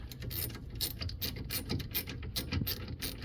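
A quarter-inch ratchet with an extension and 10mm socket loosens a bolt on a 2018 Mercedes-Benz air suspension compressor, producing rapid, close metallic clicking in quick repeated bursts.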